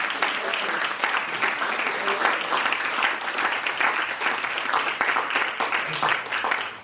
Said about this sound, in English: let's give our awardees another round of applause